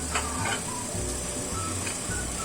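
Börek fries in oil in a pan, cooked at home for a Sunday breakfast, giving a steady, close hiss of sizzling with faint crackles throughout and no talking.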